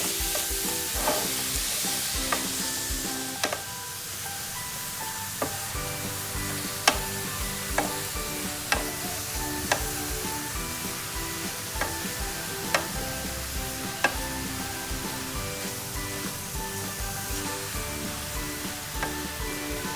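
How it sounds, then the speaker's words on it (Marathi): Grated carrots for carrot halwa sautéing in a pan, with a steady sizzle and a spoon scraping and stirring in repeated sharp strokes, close and continuous with no talk. "असं मस्त त्याच्यात आपण परतून घेणार आहोत"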